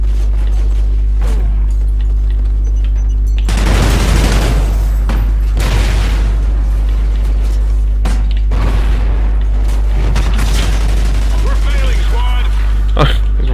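Gunfire in a free-for-all match of Call of Duty: Ghosts, with bursts of rapid shots and booms over a constant low hum, loud and close, while someone talks over much of it.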